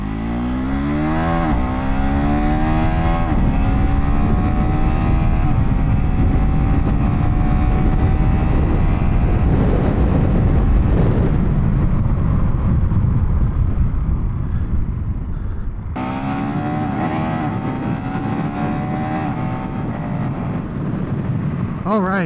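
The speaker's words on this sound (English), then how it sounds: "obviously there's a lot of wind because there's no windshield on this bike" A KTM 390 Enduro R motorcycle cruises on the highway with no windshield, loud buffeting wind roar over a steady engine drone, pitch rising and falling with shifts throughout.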